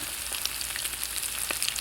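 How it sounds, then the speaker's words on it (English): Steady, crackling sizzle of squirrel meat frying in hot oil, close and continuous, with occasional louder pops. "Look at that squirrel frying."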